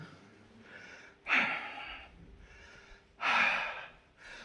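Heavy, out-of-breath panting inside a guest house room in Coonoor, with two loud gasping breaths standing out over softer, steady breathing close to the microphone.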